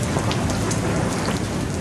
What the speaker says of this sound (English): Epic rain and thunder for 10 hours.